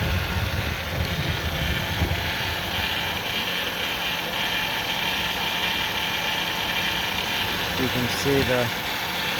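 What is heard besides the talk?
2000 Ford Windstar SEL engine rough idle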